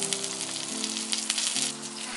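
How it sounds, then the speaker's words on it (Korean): Salmon steak sizzles on a charcoal grill, a soft continuous crackle and hiss with faint low hum underneath, heard fairly close and quiet. "숯불 연어 스테이크 들어는 보셨나요?"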